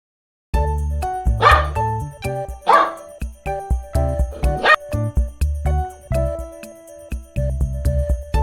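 A cartoon dog barks in a children's English lesson animation, a run of sharp, loud barks spaced about a second apart over a light jingly musical backing.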